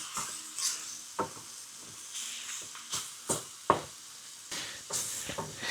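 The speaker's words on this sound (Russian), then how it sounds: "сейчас мы перемешаем, пережарим муку тоже" Flour fries in a frying pan for a pork-belly sauce while a utensil stirs it, producing repeated scraping strokes at an uneven rhythm over a soft, continuous sizzle.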